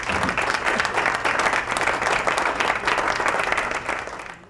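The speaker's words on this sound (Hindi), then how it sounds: "सही जवाब, तालियां हो जाएगी" A studio audience at a Ramadan Islamic quiz show applauds steadily after a correct answer, a dense sustained clapping that holds for about four seconds before tapering off at the end.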